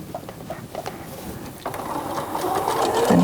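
A sewing machine stitches a scant quarter-inch seam through fabric, its steady mechanical whir running close and clear for about three seconds and growing slightly louder toward the end, with no talking.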